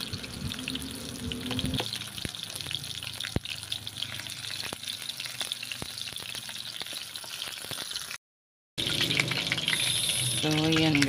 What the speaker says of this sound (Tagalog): Nagpiprito na tayo.